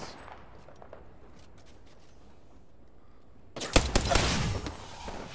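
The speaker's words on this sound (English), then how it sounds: "I am taking fire, friends." Gunfire breaks out in a ranked battle royale video game match, a sudden loud burst of rapid shots after a few seconds of quiet ambience, continuing as sustained close-range fire.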